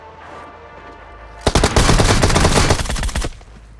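Rapid automatic gunfire in the mobile battle royale game PUBG Mobile, a loud close burst of shots lasting nearly two seconds after a quieter stretch of game ambience.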